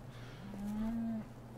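A cow moos once in the Farming Simulator 17 video game, a single drawn-out low call rising in the middle of the clip over faint background ambience.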